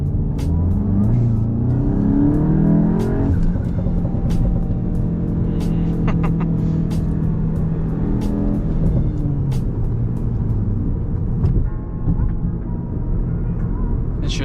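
A VW Golf Mk8 GTI with a K&N drop-in air filter accelerates, its engine drone rising and shifting steadily through the whole stretch, with faint turbo whooshes and hisses laid over a constant interior rumble.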